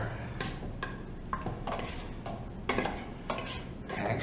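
A utensil scrapes stuck bits off the bottom of a pressure cooker pot after water goes in for spaghetti sauce, with repeated short scrapes and clinks over a low sizzle.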